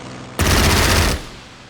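A fighter squadron strafes with machine guns in the Strategic Mind strategy game, one short, loud burst of rapid fire lasting under a second before it cuts off.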